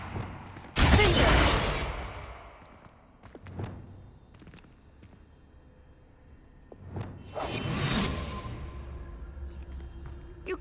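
Confringo, a blasting spell, is cast in a Harry Potter video game. Two loud whooshing explosions with shattering debris erupt several seconds apart, separated by quieter thuds and footsteps.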